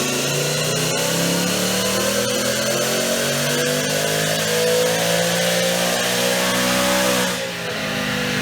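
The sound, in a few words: 2019 Mustang GT with Whipple supercharger revving on a dyno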